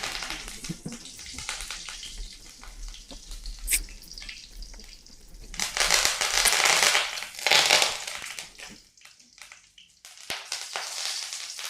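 Veg Manchurian balls deep-frying in hot oil give off a steady close crackle and sizzle that swells into louder, bubbling surges and then drops away briefly near the end.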